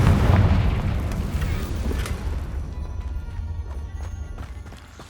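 A Confringo fire spell blast in the video game Hogwarts Legacy, a powerful booming burst with deep rumble that slowly rolls off over several seconds, scattered faint clicks and knocks trailing behind.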